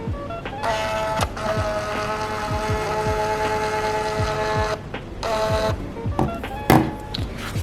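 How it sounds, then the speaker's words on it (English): A label printer runs continuously, its steady mechanical whir carrying tonal harmonics, with brief pauses and a few clicks as the label feeds out near the end. "So I'm just going to print this label that I've used with my template that I made."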